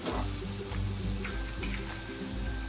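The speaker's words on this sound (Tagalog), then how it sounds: "ilagay na ang ating bawang. Medyo prituhin natin siya ng konti para maging mas malasa ang ating fried rice." Garlic fries in butter in a pan for Spam fried rice, a soft steady sizzle close by with faint crackles throughout and no one talking.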